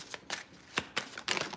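A deck of cards is shuffled by hand, several quick riffling bursts in an uneven rhythm, close and fairly soft, with no talking.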